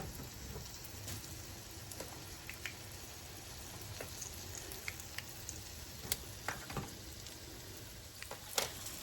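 Liver, dredged in flour after soaking in milk, frying in a skillet, giving a quiet steady sizzle and crackle with scattered small pops and one sharper spit near the end, no voices.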